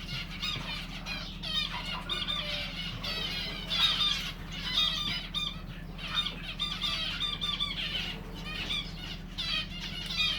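Many ornamental finches in an aviary squawk and cluck continuously, a dense chorus of harsh calls over a steady low hum, fairly faint throughout.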